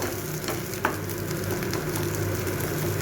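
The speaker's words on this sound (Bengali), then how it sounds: "পেঁয়াজটা আমি আর একটুখানি ভেজে নেব" Onions frying in oil for a kharkol leaf paste recipe, a steady close sizzle and crackle with a single brief stir or clink, no voices.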